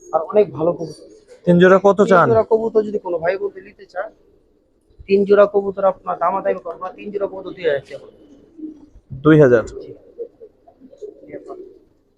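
Pigeons at a Bangladeshi pigeon market coo in soft, low bursts beneath steady, close conversation, the birds mostly masked by voices.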